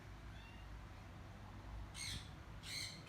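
Parrots at a bird market give two short, harsh squawks about a second apart, quiet and somewhat distant above a low background murmur.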